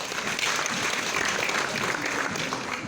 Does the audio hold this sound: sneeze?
no